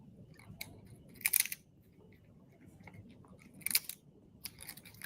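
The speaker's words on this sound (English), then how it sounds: "I hate the sound of crunching chips." Crunchy bites of original barbecue potato chips, two sharp crackling bursts about two seconds apart plus a fainter one near the end, close and fairly quiet over a low murmur of background noise.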